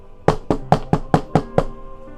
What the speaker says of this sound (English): you actually hear knocking on the door again